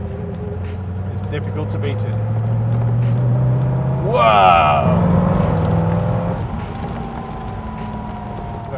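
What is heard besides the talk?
Daimler SP250 Dart V8 engine accelerating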